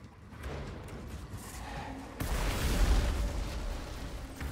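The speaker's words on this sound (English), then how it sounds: "Nice explosion" Explosion in the video game Outriders: a dense, sustained rumble that swells sharply partway through into a louder, broadband boom, with no voices over it.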